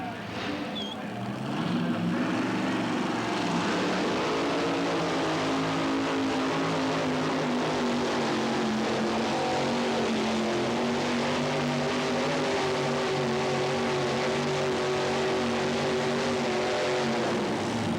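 A 454 big block Chevrolet pulling truck engine roars steadily at a tractor pull, a loud sustained drone with slowly rising pitch that holds for most of the stretch, with an announcer's voice faintly present beneath it.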